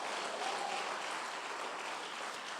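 Church congregation clapping their hands in worship, a steady, even wash of many hands clapping at once, heard from a distance with no voices standing out.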